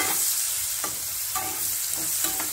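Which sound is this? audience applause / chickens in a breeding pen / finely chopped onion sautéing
finely chopped onion sautéing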